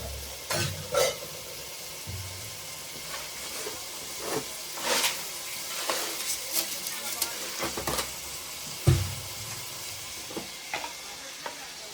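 Chicken bones fry in a pan with salt and turmeric, giving a soft, steady sizzle beneath intermittent scraping and stirring clatters, with a voice talking quietly at times.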